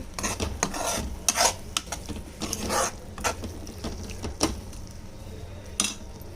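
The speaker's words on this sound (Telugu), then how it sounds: "ఓట్స్ ఎక్కువ పట్టి ఉడకనవసరం లేదు, తొందరగానే ఫ్రై అయిపోతుంది" Oats dry-frying in a pan and stirred with a spoon, giving a steady run of scraping and clinking strokes at close range with a faint sizzle underneath.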